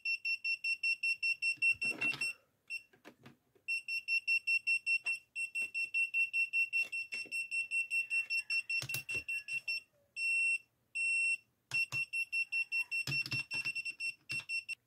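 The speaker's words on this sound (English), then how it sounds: "How about using this voltage tester? So it detects a voltage." A voltage tester used on a Stallion 220V-110V step-down transformer emits rapid repeated high-pitched beeps in bursts, with brief pauses and some handling clicks between them.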